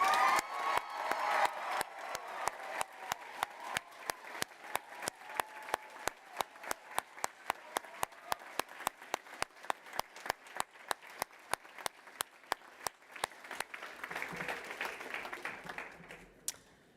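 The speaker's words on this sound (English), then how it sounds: "Perhaps we could just pause there for a round of applause for all of those who have graduated so far." An audience at a University of West London graduation ceremony applauds its graduates, with a brief swell of cheering at the start, then a long run of evenly spaced, fairly loud claps that fades out near the end.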